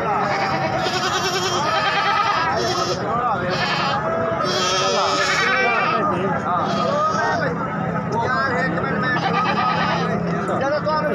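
Goats bleat again and again at a busy livestock market in Khairpur, their calls rising over a constant crowd babble and chatter.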